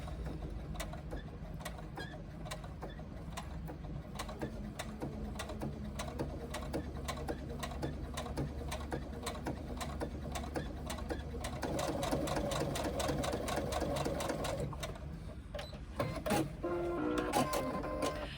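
A sewing machine runs a seam that encloses a label and mesh along the edge of a fabric pouch, its rapid needle clatter steady and close, briefly changing pace near the end.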